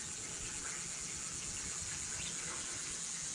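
Gasoline pouring out of a 14-gallon portable gas tank, a steady gushing liquid flow heard up close and fairly quiet, continuous with no talk.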